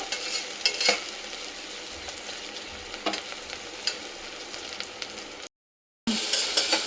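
Onions frying lightly in a pan for paneer biryani, a soft continuous sizzle with occasional stirring scrapes, close up, cut by a brief dropout near the end.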